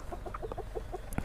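A rooster clucks in quick, soft bursts, a short run of close chicken sounds over low background noise.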